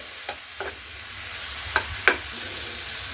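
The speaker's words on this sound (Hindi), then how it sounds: "उसके बाद हम इसे बटर में अच्छे से फ्राई करेंगे" Boiled mushrooms fry in butter in a pan with a soft, steady sizzle. A few distinct clanks and stirring knocks stand out, and no one speaks.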